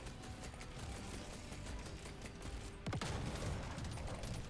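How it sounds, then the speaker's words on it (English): Autocannon firing in the video game Deep Rock Galactic: Survivor, a dense rapid stream of shots and mechanical clatter that stays loud and continuous, with a heavier thump near the end. "the autocannon is shooting at, because it seems to just be firing in somewhat random directions"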